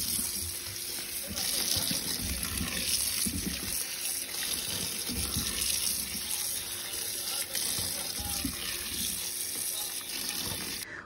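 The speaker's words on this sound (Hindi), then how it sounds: "यहाँ मम्मा धो रही है मशरूम" A tap runs steadily into a sink while mushrooms are washed in a home kitchen, a continuous splashing gush with small trickling variations throughout, and faint voices are audible in the background.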